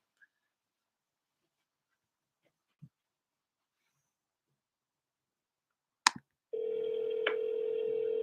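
An outgoing telephone call rings on the line during a real estate cold call, starting after a few faint clicks and a pickup-like click, then a steady continuous ring tone, fairly loud.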